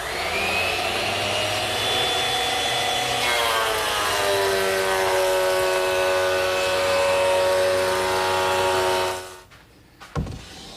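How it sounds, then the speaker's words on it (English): A surface planer trues up a wood board in a woodworking shop, a loud steady whining machine roar with shifting tones that runs for several seconds, then winds down and cuts off, followed by a brief knock. "now I'll take it to my surface planer and true it up"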